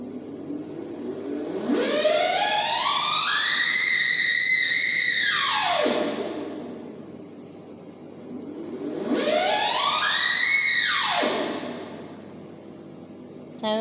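A satellite communication receiver puts out a tone that rises in pitch and then falls as the uplink frequency is swept. It happens twice, each sweep lasting several seconds, and holds steady at the top of each sweep. The tone is clear and fairly loud, with no talking.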